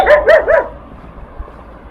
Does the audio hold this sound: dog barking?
yes